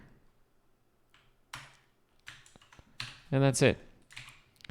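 A few scattered key taps on a computer keyboard while a code snippet name is entered for a Next.js project, followed by a brief spoken remark from a man.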